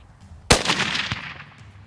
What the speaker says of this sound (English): you can shoot him